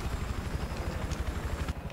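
A Little Bird helicopter in a war video game gives a steady, rhythmic low rotor thump with a constant engine whine above it, loud and close throughout.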